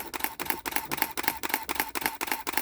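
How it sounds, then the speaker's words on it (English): Camera shutter firing in continuous burst mode, about eight or nine crisp mechanical clacks in a steady fast rhythm, close and loud. "it'll shoot probably like 3 per second as long as you hold that shutter down"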